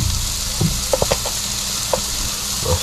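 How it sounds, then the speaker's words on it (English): Chopped chives and garlic sizzling in a frying pan with mushrooms and turkey bacon, a steady close sizzle broken by a few soft scraping stirs and light clacks of the utensil. "I'll stir this up again real quick"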